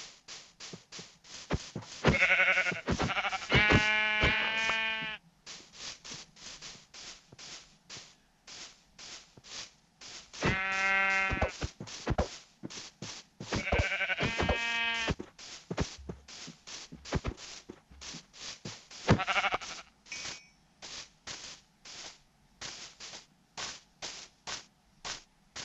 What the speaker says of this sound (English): What the? Two sheep? Right next to each other?